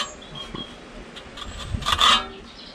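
Steel trowel smoothing sand cement render on a window sill, a soft scraping rasp that swells into a louder sweep near the end, close and alone.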